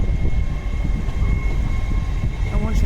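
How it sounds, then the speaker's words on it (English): An LNER passenger train on the main line at York passes close by as a loud, steady rumble of wheels and wagons with a faint high whine, heavily buffeted by wind across the microphone. "LNER service to London King's Cross"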